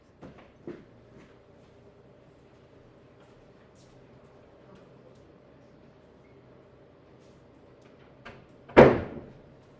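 A door in a microbiology lab during a Gram stain procedure: a few faint clicks early on over a steady low hum, then one sharp, loud bang near the end.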